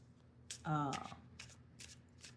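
Tarot cards shuffled by hand at close range, one loud riffling burst followed by several lighter card flicks and taps, quiet indoors.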